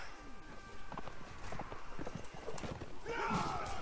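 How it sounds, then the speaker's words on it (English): In the Warband game with the Warsword Conquest mod, a horse's hooves clip-clop in a quick rhythm during battle, with a neigh near the end, and someone talks over the sounds. "But his horse interrupted his charge."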